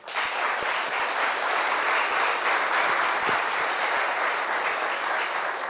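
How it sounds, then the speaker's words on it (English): A demo day audience gives sustained, loud applause, a dense wash of many hands clapping that stays steady throughout with no voices over it. "I'm going to ask you for a very, very warm clap for these brands and people who makes possible this demo day"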